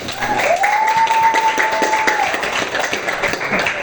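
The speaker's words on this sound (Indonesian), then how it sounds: "tepuk tangan buat" Students in a classroom career guidance session clap for a classmate, a soft, scattered patter of hands with a brief tonal sound partway through.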